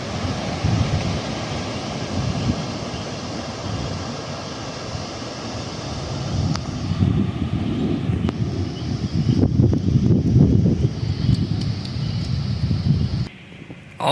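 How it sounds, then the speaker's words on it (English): Gusty thunderstorm wind in Gansevoort, New York roars close to the microphone and buffets it, builds stronger midway, then briefly drops off near the end. "Oh my goodness, it's blowing really hard."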